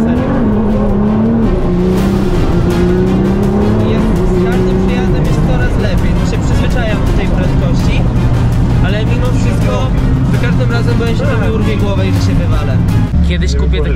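A fast car's engine roars loud and steady, its pitch shifting as it accelerates, while people talk over it throughout.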